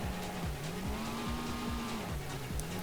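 A car in Need for Speed High Stakes braking, with a steady engine drone broken by a quick series of repeated tire scrubs and downshift-like dips, sustained at moderate level without talk.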